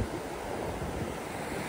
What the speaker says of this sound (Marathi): आणि हा संपूर्ण आहे लाडगर समुद्र किनारा।